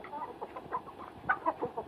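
A few chickens, laying hens waiting to be fed in their coop, cluck softly nearby in short, irregular bursts, fairly quiet with no talking.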